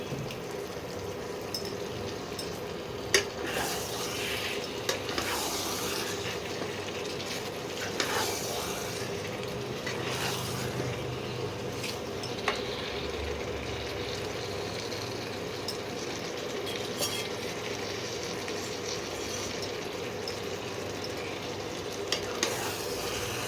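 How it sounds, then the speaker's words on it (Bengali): Chicken pieces stir-frying in a hot spiced curry base, a steady close sizzle with frequent scraping stirs throughout, no voices. "এবারে মাংসগুলো দিয়ে ভালো করে কষিয়ে নিই"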